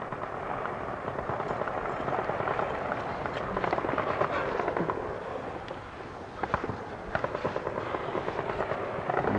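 Gunfire during a firefight in Beirut in 1983, a dense crackle of rapid distant shots and bursts running continuously, with sharper nearer reports toward the end.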